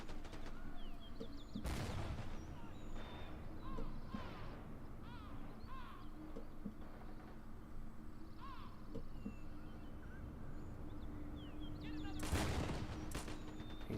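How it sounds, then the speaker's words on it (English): An anti-tank gun fires in a World War II strategy game tournament match, with two loud, sharp blasts several seconds apart standing over a steady din of battle ambience and scattered distant gunfire. "AT gun unfortunately missing."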